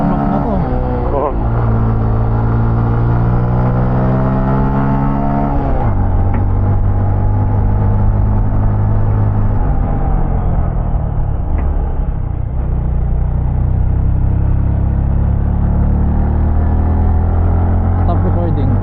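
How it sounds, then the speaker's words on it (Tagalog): A motorcycle engine idles while warming up, a loud, continuous low rumble with occasional small shifts in pitch, running steadily throughout as people talk nearby. "Warm up agad yung motor."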